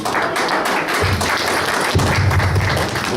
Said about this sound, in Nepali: हामी उहाँलाई एकचोटि ताली बजाएर धन्यवाद दिनेछौँ